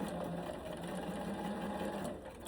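A sewing machine runs continuously at close range, stitching slippery nude mesh fabric with a steady, even mechanical whir and no talking.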